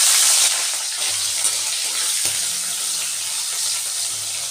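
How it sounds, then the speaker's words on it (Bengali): Tengra fish fry in very hot oil in a wok, a continuous, loud, hissing sizzle that stays fairly even throughout, with no speech. "তেলটা বেশ গরম হয়ে গেছে এখন আমি মাছগুলোকে ভেজে নেবো একে একে"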